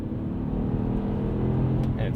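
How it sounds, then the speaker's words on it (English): Engine of a 2020 Mini Cooper Hardtop 2-Door Oxford Edition climbing in revs after a downshift from fourth to second, a smooth steady hum heard from the cabin. "the revs come way up"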